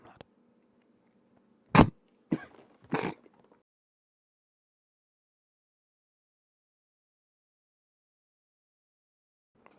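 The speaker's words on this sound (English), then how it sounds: "These fucking coughing fits are outrageous." Someone has a coughing fit while streaming a football video game: three sharp, harsh coughs in quick succession, fairly close and loud, followed by long silence.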